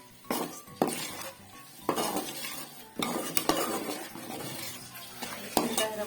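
Chicken that was first boiled in milk fries in a pan for spicy pasta, with a low sizzle under repeated clinks and scrapes of a metal utensil stirring against the pan.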